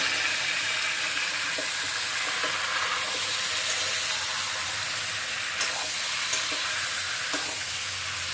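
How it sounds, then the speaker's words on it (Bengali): Chicken pieces stir-fried in a hot pan with onions already fried red, a steady loud sizzle and hiss with occasional scraping stirs, no voices. "সবগুলো চিকেন একসাথে করে দেবো। একসাথে করে দিয়ে একটু নেড়ে করে দিই।"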